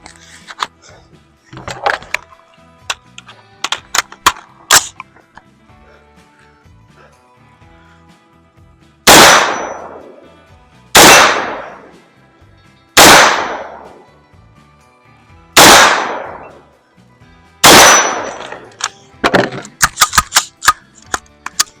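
Gunshots at a competition shooting practice: five loud, sharp reports spaced about two seconds apart, each with a ringing decay, framed by clusters of lighter clicks and clanks before and after.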